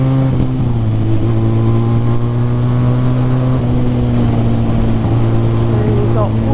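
A Harley-Davidson X350 motorcycle rides along Saddle Road with a steady, loud engine drone and a slight change in pitch as the throttle eases. Constant wind noise runs underneath.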